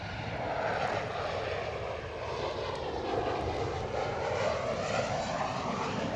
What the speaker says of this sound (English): 737 with the old livery.